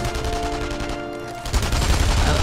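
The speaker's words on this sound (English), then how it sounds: "Oh, they're shooting at something else, aren't they?" Gunfire from the World War II shooter Enemy Front, a steady busy game soundtrack that swells into louder, denser bursts of shots in the second half, with no talk over it.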